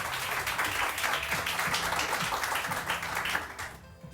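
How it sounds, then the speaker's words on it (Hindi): A studio audience on a Samaa morning TV show applauds a guest, with sustained, even clapping from many hands that thins out and fades in the last moments. "डॉक्टर ईसा के लिए बहुत सारी तालियां"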